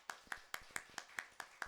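Eight sharp, evenly spaced claps over about a second and a half from a church congregation welcoming a member during a Sunday morning service, moderately close with a little room echo.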